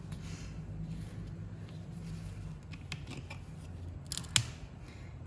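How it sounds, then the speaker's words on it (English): A knife pries a glued-on EasyShoe Versa Grip Light horseshoe up from a hoof wall, giving quiet, close scraping and crisp snipping scratches in irregular bursts, with one sharper crack near the end. "I can just sneak my knife under here and start to peel up"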